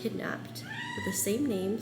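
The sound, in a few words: cat meowing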